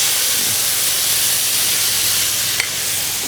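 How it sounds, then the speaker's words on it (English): Peaches sizzle in nutty browned butter in a pan, a steady loud hiss and crackle filling the whole moment without a break, with one small clink near the end. "So we're gonna add our peaches to that."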